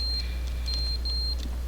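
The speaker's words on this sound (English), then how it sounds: "The sensor in the ceiling is beeping." A smoke-detector-style sensor in a ceiling chirps with thin high-pitched beeps in The Stanley Parable: Ultra Deluxe, over a steady low hum, sounding a few times in quick succession.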